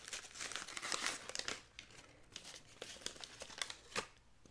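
A small ceramic sauce cup being unwrapped from its packaging: soft, close crinkling and rustling in uneven bursts, quiet throughout.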